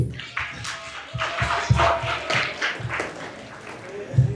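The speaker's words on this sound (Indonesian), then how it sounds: "Tepuk tangan dong bahasa buat kamu itu." Group of students clapping during a leadership training session at a Jakarta madrasah, a scattered burst of claps rising and thinning irregularly, with voices talking through it.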